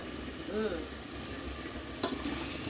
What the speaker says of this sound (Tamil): நல்லா கிளறி விட்டு கொஞ்சம் நேரம் நல்லா வேகம் போட்டு